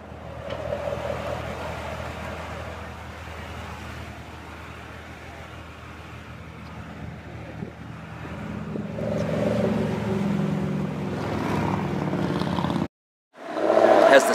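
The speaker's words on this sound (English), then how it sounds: "It has the same LT1 engine, 460 horsepower." A 2014 Corvette Stingray convertible with the 460-horsepower LT1 engine and multi-mode exhaust drives along with a steady, moderate engine and road drone that swells near the end, breaks off briefly, then returns.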